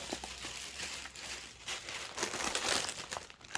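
A cross-stitch parcel being unboxed, with close, fairly quiet plastic packaging crinkling and rustling in irregular bursts, growing busier toward the end, with no talking.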